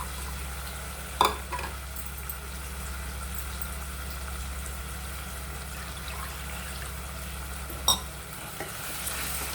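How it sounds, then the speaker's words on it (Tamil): Ground biryani masala frying in a pan for mutton biryani, a steady low sizzle with two sharp clinks of stirring. "இப்போ அரைச்சி வச்ச பிரியாணி மசாலாவை போடுறேன்."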